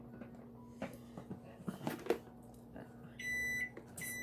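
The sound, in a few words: kitchen timer beeping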